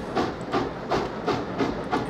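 A video game train running, rhythmic chuffing steam bursts repeating about every third of a second, loud and close, with no speech.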